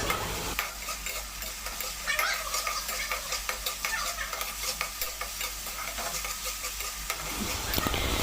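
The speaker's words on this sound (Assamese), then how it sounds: "দি পেলাই এইখিনি অকণমান কালাৰটো চেঞ্জ হোৱালৈকে ভাজি থাকিব লাগিব এনেকৈ" Chicken frying in a pan with cumin, ginger and garlic paste, stirred steadily: a continuous hiss of sizzling with repeated scraping strokes of the spoon, fairly quiet and close, with no talk.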